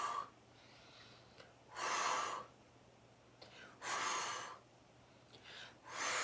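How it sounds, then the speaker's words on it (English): Deep breaths drawn in and out through the nose and mouth during a Pilates and barre workout, three strong breathy bursts about two seconds apart with faint softer breaths between, close and clear with no talk. "Inhale to reach."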